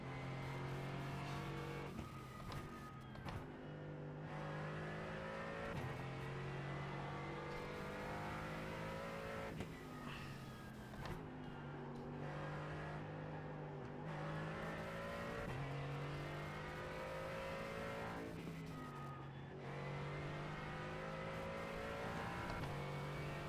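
Simulated race car engine lapping the Nürburgring in iRacing, a steady loud drone with rising revs, gear-change dips and shifts every few seconds, running continuously with no talk.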